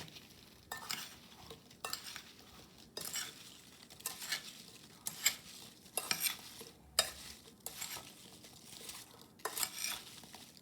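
A spoon stirs apple crisp ingredients with cinnamon in a bowl, giving repeated scraping and clinking strokes in an irregular rhythm, fairly close and alone with no talk.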